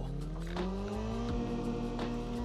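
An enemy vehicle drives in Call of Duty Mobile, its engine a loud, steady, close drone whose pitch climbs gradually as it accelerates, with faint clicks and thuds of gameplay over it.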